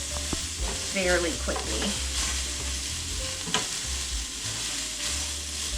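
Broccoli slaw stir-frying in a pan for a chow mein style noodle dish, a steady sizzle with occasional scraping stirs, while a person talks briefly over it.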